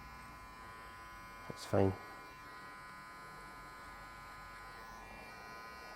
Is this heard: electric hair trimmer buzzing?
yes